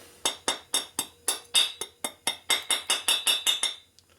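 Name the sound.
hammer knocking burr off engine part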